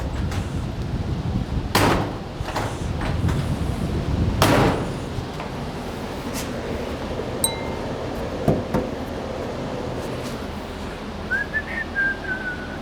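Car door opened and closed to test clearance after a fender bolt is tightened on a drag-racing project car, with two sharp thumps early on, scattered metallic clicks and knocks, and a faint whistle near the end.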